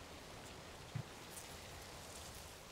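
Quiet, steady rainfall on a rural village morning, a soft even hiss of drops with one brief louder patter, faint and continuous with no voices.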